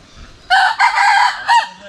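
A rooster crows loudly and close by in a Bangladeshi village, one long drawn-out call broken into several strained segments and ending in a final rising note, standing alone without talk.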